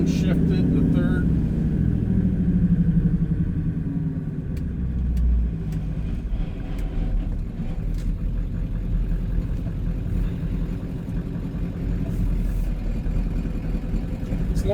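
A Ford Super Duty OBS Powerstroke diesel truck slows down and drops into third gear, its engine a low, steady rumble with a brief rise and fall in pitch as the gear changes.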